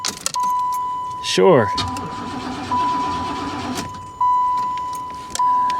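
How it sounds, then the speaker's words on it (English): A Corvette convertible cranks and starts at a salvage auction yard, with a rough rising whine followed by a steady idle that surges in repeated revs, keys jangling close by and a voice briefly speaking. "She actually sounds like she's cranking pretty good."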